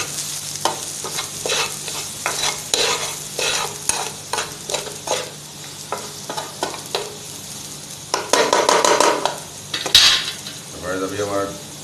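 Ingredients for an egg dish (anda ghotala) are sautéed in a pan, with a rapid series of metal spatula scrapes and clacks over a constant sizzle, then a denser stirring burst, close and loud with no talk.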